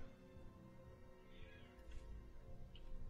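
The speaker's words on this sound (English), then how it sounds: "There's an angry cat outside." An angry cat caterwauls outside, a faint, distant drawn-out yowl set under a low background hum during a Star Wars: The Old Republic session.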